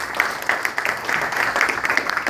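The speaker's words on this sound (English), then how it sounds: "So join me in a round of applause to them." Applause from an audience at a community celebration, a brief burst of many hands clapping at moderate volume, steady and crisp throughout.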